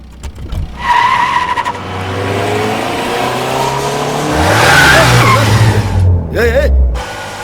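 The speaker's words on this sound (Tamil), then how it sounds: "அதாவது வேகமா போய் இடிக்கிற மாதிரி நிறுத்தணும்" A car races in fast with a rising engine roar, then tires squeal loudly as it brakes hard to a stop, close and dramatic with film score underneath and brief voices.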